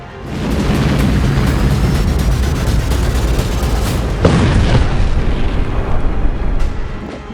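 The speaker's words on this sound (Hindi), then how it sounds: "अड़तीस साल बाद अमेरिका में अग्नि विस्फोट।" A continuous, powerful roaring rumble with a burst of cracking booms partway through, loud and dense, from a volcanic eruption in the United States, no voices.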